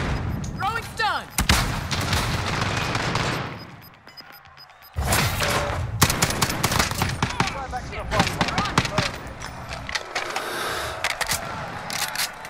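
Gunfire and grenade blasts in Call of Duty: Modern Warfare crackle in dense volleys with sharp bangs, briefly dropping quiet before resuming loudly.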